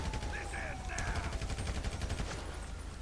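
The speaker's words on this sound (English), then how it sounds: "now he's shooting at me" Gunfire aimed at the player in GTA Online, a dense run of rapid shots crackling close and steady for the whole stretch under game music and chatter.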